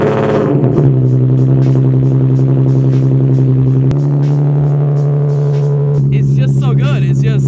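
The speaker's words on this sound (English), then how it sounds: "I don't think it's a cold start, but I think it's pretty close to it." A Nissan 300ZX twin turbo engine fires up from a near cold start, then settles into a loud, close, steady rumbling idle with a shift in pitch partway through.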